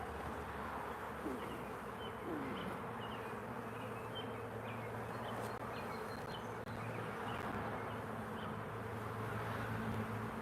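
Honeybees buzz loudly and continuously during a hive inspection, a dense close swarm hum that stays steady throughout with no talking.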